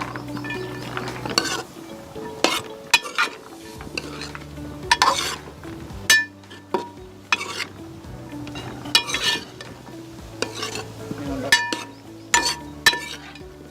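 Green peas being stirred into millet biryani in a pan, a spoon scraping and clinking against the metal in repeated strokes, close and clear over a faint sizzle.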